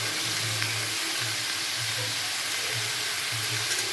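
Chowmein ingredients fry in a hot pan with a dense, steady sizzle and a low rhythmic rumble underneath, continuous and close, with no talking.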